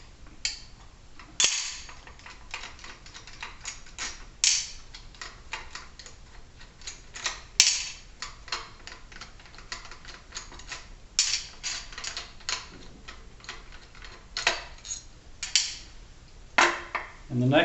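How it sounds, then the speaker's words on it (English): A 7/16 wrench works four hex bolts loose on an Ektelon racquet mount, producing close, rapid ratcheting clicks in bursts with brief pauses and occasional louder metallic knocks. "take the 7/16 wrench, remove these 4 hex bolts"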